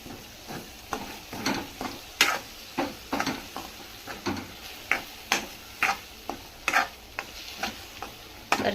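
A spoon stirs cheese masala sandwich filling with mayonnaise in a bowl, giving a steady rhythm of soft, sticky, close scraping strokes roughly twice a second, with no voices.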